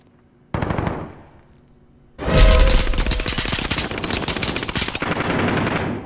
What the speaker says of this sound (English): Holy shit, he's shooting through the wall!